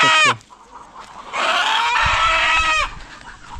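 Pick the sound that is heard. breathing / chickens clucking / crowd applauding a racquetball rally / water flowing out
chickens clucking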